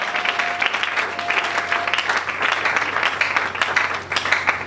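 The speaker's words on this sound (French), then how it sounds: "Est-ce qu'on peut acclamer très fort?" A church congregation applauds loudly and continuously, dense clapping filling the room at a steady, sustained level with occasional cheers rising above it.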